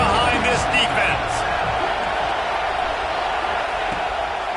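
Stadium crowd at a Texas A&M versus Auburn college football game roars steadily throughout, a broad continuous wash of cheering under a commentator's voice.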